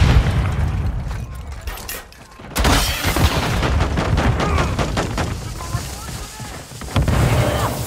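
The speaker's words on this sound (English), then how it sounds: "Stun grenade out." A stun grenade thrown during a Call of Duty MW3 team deathmatch, with a sharp burst near the middle followed by dense crackling gunfire and booms, continuous and loud, with voice callouts mixed in.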